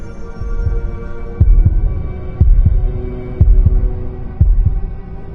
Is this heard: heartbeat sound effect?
yes